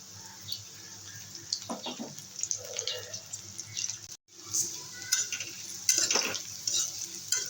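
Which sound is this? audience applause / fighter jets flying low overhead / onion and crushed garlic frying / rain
onion and crushed garlic frying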